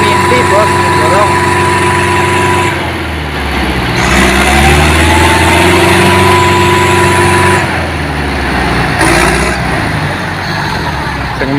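A tractor engine strains and pushes during a tense heavy-vehicle recovery, its loud, steady drone wavering in pitch as it revs, with other machinery and shouting voices mixed in close by.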